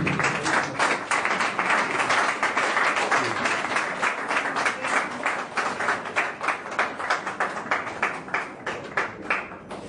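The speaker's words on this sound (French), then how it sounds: "Sous vos acclamations, s'il vous plaît." A crowd at a political party's second anniversary celebration claps loudly, the applause settling into a rhythmic, synchronized clapping pattern toward the end; distinct cheering is not evident.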